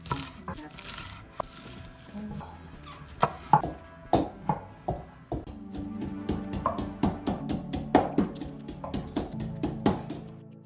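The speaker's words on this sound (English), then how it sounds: "And also cut some spring onions." Knife chopping spring onions on a board for homemade kimchi, a run of sharp, close, fairly loud cuts in an irregular rhythm that picks up into quicker repeated chops toward the end.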